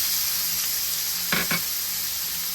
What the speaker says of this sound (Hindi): प्याज को हल्का सा फ्राई करेंगे, ज़्यादा नहीं।